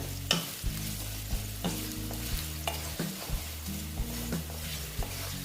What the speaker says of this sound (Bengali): আমি একসঙ্গেই করে নিচ্ছি দেখো ডালটা এটার সঙ্গে ভেজে নিচ্ছি